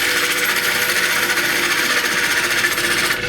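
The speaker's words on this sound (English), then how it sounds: "I'm just coming across now and making skimming cuts" Wood lathe gouge taking light skimming cuts across a spinning crotch wood platter, a loud steady close hiss of cutting with an even whirring texture lasting the whole stretch.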